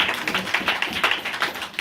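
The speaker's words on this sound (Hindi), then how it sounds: "ताली बजाए, अच्छा है, लेकिन टाइम पे बजाओ।" An audience at a Hindi Bible teaching session claps in a dense, fairly quick run of hand claps, close and steady throughout, with no talking over it.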